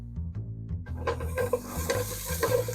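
Garlic dropped into sizzling onions in a pot for tomato basil soup, with a spoon stirring and scraping as a steady crackling fry rises and holds close by, no talk.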